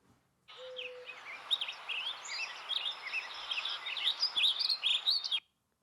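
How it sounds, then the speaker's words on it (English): Recorded birdsong from 2003, with chirps and whistled calls in a busy sequence, a short low steady tone near the start, moderately loud, ending abruptly. "We hear hooting owl."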